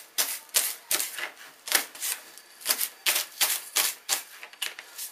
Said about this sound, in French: Là, je vais couper la cébette